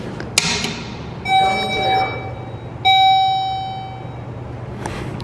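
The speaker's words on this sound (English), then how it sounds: "Just some strange random beep in this one." A Dover traction elevator gives two loud sustained electronic beeps with bright overtones, each lasting about a second or more, over steady machinery hum in an elevator car at University Square.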